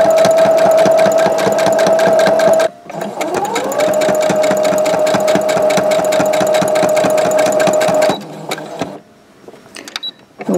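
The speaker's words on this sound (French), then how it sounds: "Et on va coudre le biais tout le long." Sewing machine stitching bias binding along the edge of a fabric cheque-book holder, a loud, close, steady rapid needle rhythm with a humming tone, briefly pausing near three seconds and stopping near eight seconds, followed by faint handling sounds.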